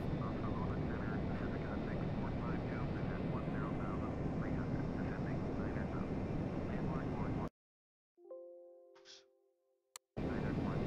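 Boeing 737-800 cabin noise in a flight simulator at cruise altitude: a steady, loud engine and airflow roar that cuts out abruptly, leaving a brief tone before the drone returns, with voices talking over it.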